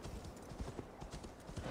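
Horse hooves clip-clop in a steady trotting rhythm in a video game, fairly close and even, with a faint whinny and no talking over the hoofbeats.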